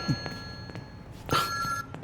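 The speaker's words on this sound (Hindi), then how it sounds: "सुना नहीं आपने? फोन उठाइए।" A telephone bell gives a short ring amid a few soft thumps and footsteps in a quiet room.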